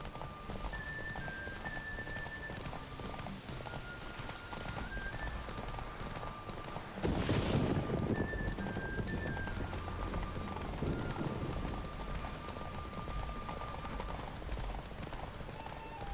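Horses gallop during a race in The Witcher 3, with fast, continuous clip-clopping hooves that swell louder midway under a faint melodic music bed.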